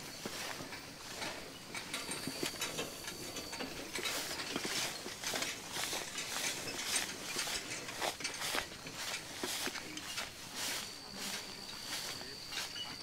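Draft horses pull a hay rake through a patch of first-cut hay in a hayfield, giving steady rattling, clicking mechanical patter and hoof clops throughout, at moderate distance with no talk.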